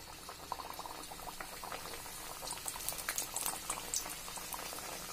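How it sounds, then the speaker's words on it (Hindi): Sattu kachoris fried in hot oil over a medium gas flame, a steady soft bubbling sizzle with faint crackles, fairly quiet and close. "अब आइए इसको तल लेते हैं।"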